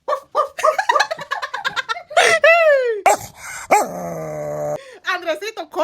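A voice imitates a dog, yapping in quick repeated barks, then drawn-out howling whines and growly yelps, close and loud, in uneven bursts across several seconds.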